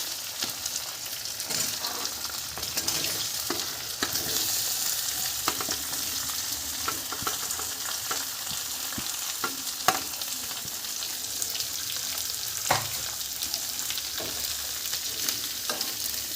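Boiled potatoes and long-cut green chilies stirred slowly in a pan, giving a continuous soft sizzle with scattered scraping clicks from the stirring throughout; no talk.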